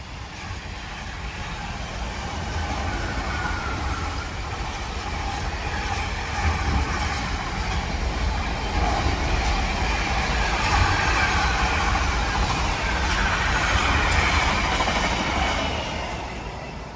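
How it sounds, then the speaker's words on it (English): Train passing through Lichfield Trent Valley station, a long, loud rumbling roll with faint clickety-clack of wheels that swells through the middle and eases off at the end. "the train now arriving into platform 2 is the slightly delayed 1249 London North Western Railway service to London Euston"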